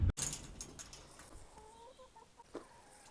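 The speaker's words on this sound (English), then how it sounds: "The chickens have been freed today, which I'm very happy about." Chickens cluck softly in short bursts on a farm with cows, against a low background hum, with a brief thump at the start.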